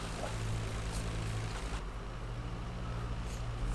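A squadron of WWI fighter planes flies past in IL-2 Great Battles. Their propeller engines make a steady, moderately loud drone with a faint shift in pitch as they pass.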